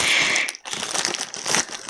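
Crisp plastic crinkling and rustling of a cheese and onion crisp packet, close and brief, with a short pause before more crackly handling.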